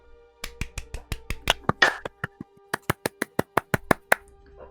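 A few people clap in uneven, sharp, separate claps, close by and fairly quiet, trailing off after a few seconds.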